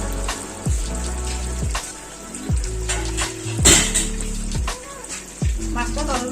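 Hilsa fish sizzles and crackles in a pan as it is stirred and turned, giving a continuous frying hiss. Sharp pan knocks cut through at intervals, with low background sounds throughout.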